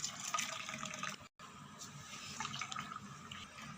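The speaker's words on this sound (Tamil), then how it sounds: "டீயை ஃபில்ட்ரு பண்ணிடலாம்" Hot ginger tea strained and poured into a cup, giving a steady close splashing flow of liquid with one brief pause in the middle.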